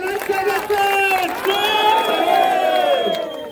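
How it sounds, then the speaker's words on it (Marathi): Crowd cheering and shouting at a village wrestling bout during a temple fair, with loud, sustained voices and whoops ringing over a dense, continuous roar of spectators throughout. "तरी सर्वांनी टाळ्या वाजवायच्या"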